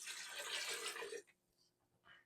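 Water pours from a cup into a soup pot holding tofu and pumpkin for Haitian squash soup, a bright splashing rush for about a second, then it stops with faint trailing sounds.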